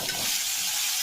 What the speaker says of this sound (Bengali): পেঁয়াজটাকে লবণ দিয়ে ভাজবো।